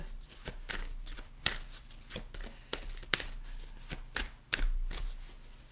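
Guidance cards being shuffled by hand, a series of crisp riffling bursts at a fairly regular pace, heard close up and alone.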